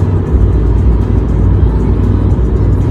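A car drives along a road on the way to Myrtle Beach, heard from inside the cabin as a loud, steady low rumble of engine and tire noise with no talking.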